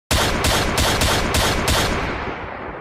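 Rapid automatic gunfire in a comedic parody scene, about six sharp bursts in quick succession, loud and close with no talk, trailing into a fading echo.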